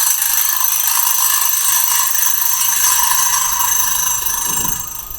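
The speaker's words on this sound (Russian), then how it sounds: "Звук становится немножечко тише, но значительно дольше звучит виброслэп." A vibraslap in a quieter variation gives a loud, dense metallic rattle that buzzes steadily for several seconds and then thins out as it decays, with no talking.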